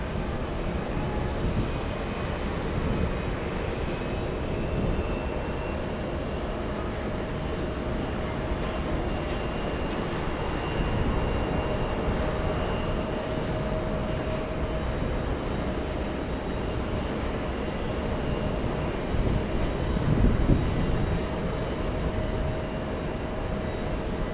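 Boeing 777 airliner arriving from Madrid and passing at JFK, a sustained loud engine roar with a steady whine, continuous for the whole stretch and swelling slightly near the end.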